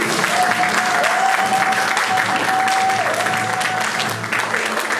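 Applause from guests at a Gabonese civil wedding ceremony, dense sustained clapping from a crowd close by, with a steady tone ringing faintly underneath and tapering slightly near the end.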